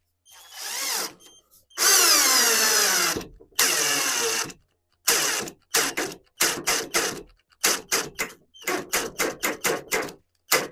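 An Aurora 12V cordless screwdriver drives a screw into ash wood, starting with longer whirring bursts and ending in a run of short, stuttering pulses, close and loud with silent gaps between them.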